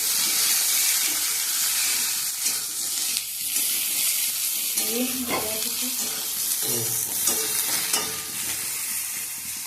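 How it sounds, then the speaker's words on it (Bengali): Eggplant pieces fry in plenty of oil for a shukto curry, giving a continuous hiss and sizzle with occasional stirring scrapes in the pan. "এই বেগুন দিয়ে দিচ্ছি, বেগুনগুলো একটু ভেজে নিই"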